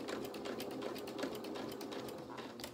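A sewing machine with black thread runs steadily through a quilted fabric panel sandwich, a close, fast, even needle clatter throughout.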